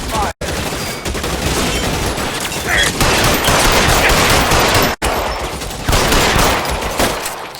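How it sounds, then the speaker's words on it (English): Sustained automatic gunfire from a shootout in the video game LA Noire, dense rapid bursts filling the scene with loud cracks and booms, a few brief gaps, with shouted voices partly under the shooting. "Lay down some cover and fire!"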